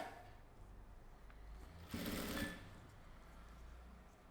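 A sewing machine stitching a two-compartment zippered pencil case, with a short burst of running stitches about half a second long heard faintly over a quiet room hum.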